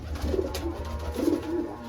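Two low, rolling pigeon coos in sequence, close by, with a steady low hum underneath and no voices.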